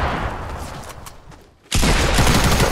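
Gunfire in the Fortnite battle royale video game: dense, loud bursts of shots filling the first stretch, a brief lull, then an abrupt renewed loud barrage continuing to the end, with no talk.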